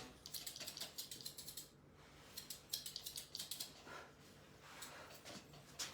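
Scissors snip steadily through a toy poodle's coat during grooming, quick crisp cuts in close rhythmic runs with short pauses, close and fairly quiet.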